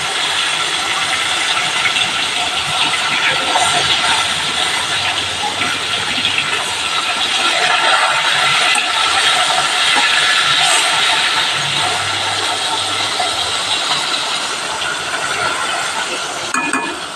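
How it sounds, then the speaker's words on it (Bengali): Pieces of rohu fish frying in oil for a kalia curry make a continuous, steady hiss and sizzle, close and fairly loud, holding at an even level for the whole stretch. "মাছগুলো আমার ভাজা হোক।"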